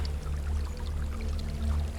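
Steady flowing water pours continuously with a low rushing hum underneath, even and unbroken throughout.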